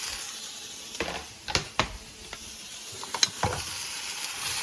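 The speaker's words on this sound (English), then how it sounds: "just put those onions right there in the middle. Okay, and those will saute for a little bit." Onions sauteing in a pan alongside browning rice for Spanish rice, a low sizzle broken by several sharp scrapes and clatters as the mixture is stirred.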